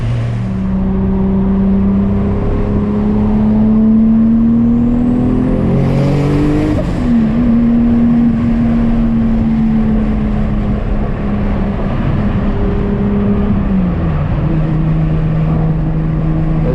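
A 700hp 2JZ-swapped Nissan 350Z pulls hard under turbo boost, its engine note climbing loud and close through the gears with rising pitch and a shift dip, heard from inside the car.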